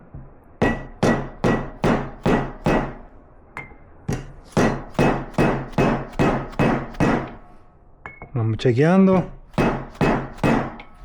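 A rubber mallet taps repeatedly on a part of a 200-amp alternator for a Ford F-350 7.3 Powerstroke, driving it into alignment with a steady series of sharp, close knocks, a brief pause, then more knocks while someone speaks.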